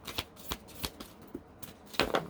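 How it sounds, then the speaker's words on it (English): A tarot card deck being shuffled in several short, crisp riffling bursts with brief pauses between them, ending in a louder double riffle, close by with no talking. "They're telling me to shuffle one more time."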